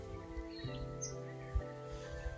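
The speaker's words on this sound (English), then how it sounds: "You can still hear lots of birds in the distance." Distant birds call faintly by a lake at a campsite near Quilpie, Queensland, a few soft chirps over a steady low hum in a quiet setting.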